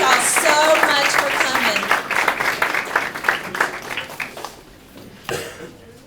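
At a high school Jobs for Graduates induction ceremony, an audience applauds in a full, close burst that fades over several seconds, leaving scattered claps and faint voices.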